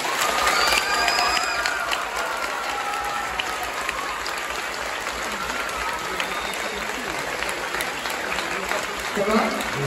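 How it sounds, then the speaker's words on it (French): A large audience applauds loudly throughout, with scattered cheers and shouts at a stage hypnosis show, a dense steady roar of clapping over voices in the crowd. "Et je vous demandez de leur faire un tonnerre d'applaudissements"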